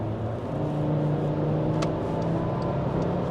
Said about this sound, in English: listen to this noise of this 5-cylinder engine